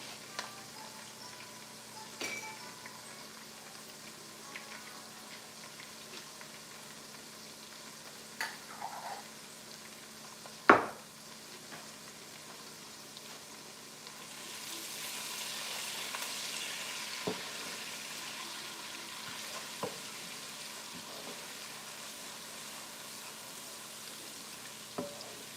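Minced garlic sizzles in hot oil for oxtail stew, a quiet, steady fry with occasional sharp pops and clinks, the crackle swelling louder in the latter half.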